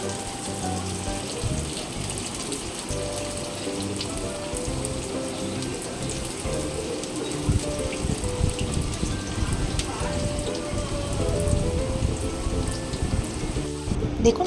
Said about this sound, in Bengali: ডিপ ফ্রাই করে নিতে হবে দুপিঠটাই।